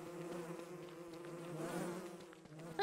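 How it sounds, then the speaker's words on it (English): A swarm of bees in the Don't Starve Together video game buzzes in a steady, droning hum that swells slightly and then eases, heard alone without talk. "Oh no! All the bees."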